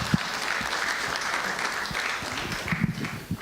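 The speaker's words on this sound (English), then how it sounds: "Shall we give her another round of applause, ladies and gentlemen?" Audience applause after a session at a broadcasters convention, a steady dense wash of clapping from a large hall crowd, sustained throughout.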